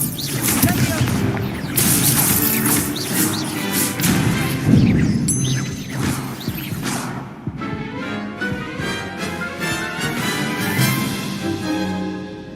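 Spell attacks in Hogwarts Legacy: dense, continuous magical blasts, crashes and thuds from Confringo, Levioso and Expulso, loud and close throughout, with spoken incantations and game dialogue over the combat.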